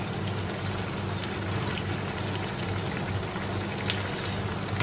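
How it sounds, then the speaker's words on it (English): Potato batata vada deep-frying in hot oil, giving a dense, continuous sizzle and crackle, loud and steady throughout with no talking. "Lift it up and drop it into the oil."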